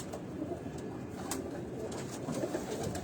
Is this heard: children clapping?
no